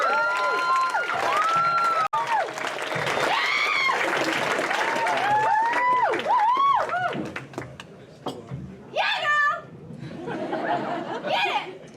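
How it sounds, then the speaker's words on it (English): Comedy club crowd applauding and cheering to welcome the next comic. Whoops and claps rise and fall around a host's amplified voice and laughter, lively and close. "your next comic, give it up for Carolyn Collyer."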